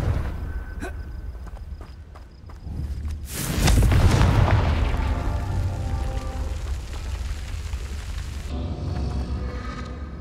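In Hogwarts Legacy, a Confringo spell blast hits with a sudden heavy boom after a few quiet footsteps and clicks. A rumbling tail of game effects follows and carries on for several seconds.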